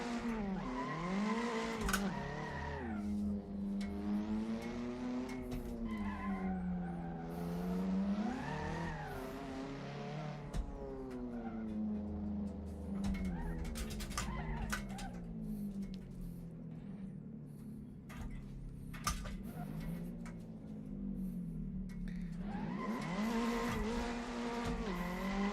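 A BMW M3 drifting in Assetto Corsa, its engine wailing and rising and falling in pitch through repeated revs, with tire squeal in long slides, loud and steady throughout.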